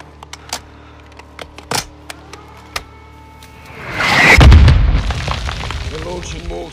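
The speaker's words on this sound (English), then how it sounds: "Mortars, don't stay in one place, Sergeant." A mortar round explodes in the Modern Warfare II video game with a heavy, rolling boom midway through, after a run of sharp clicks and taps, with a lingering rumble afterward.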